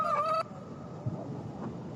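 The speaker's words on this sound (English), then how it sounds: "The chicken says you're lying." Rooster in the video game Yes, Your Grace gives a short, clear clucking call at the start, followed by faint low thumps and room noise.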